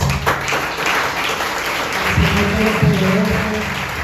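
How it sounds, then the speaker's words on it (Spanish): A church congregation applauds loudly during a Sunday service, with steady dense clapping throughout and a few voices rising near the end. "Ha sido una lluvia de aplausos fuertes"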